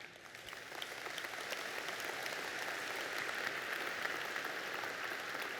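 An audience at a keynote on global polio eradication claps steadily for several seconds, a dense, even wash of applause at moderate volume.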